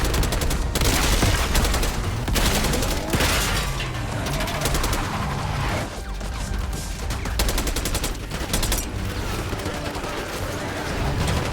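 Heavy automatic gunfire in a Call of Duty: Black Ops 6 campaign firefight at a palace gate, loud and continuous with dense overlapping bursts and brief lulls, shouted voices faintly mixed beneath.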